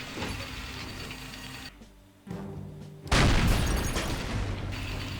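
Tank gunfire and explosions in the video game Faces of War: a rumbling battle din drops briefly, then a loud, heavy blast bursts in and leaves a long, noisy roar.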